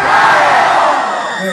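A concert crowd at a show yells in unison, one loud, sustained massed shout that fades slightly toward the end.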